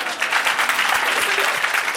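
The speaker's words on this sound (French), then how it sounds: "Par applaudissement, des applaudissements." Brief burst of applause, dense and close, lasting about two seconds.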